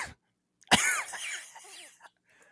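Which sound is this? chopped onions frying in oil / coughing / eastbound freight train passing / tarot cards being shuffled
coughing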